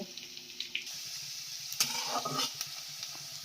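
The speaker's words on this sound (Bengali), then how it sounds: "পেঁয়াজ কিন্তু খুব সুন্দর করে ভালোভাবে ভাজা হয়ে গেছে।" Onions frying in a pan, with a soft, fairly faint sizzle and a few scraping stirs from a utensil over roughly three seconds.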